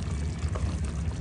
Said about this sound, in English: add water and allow it to cook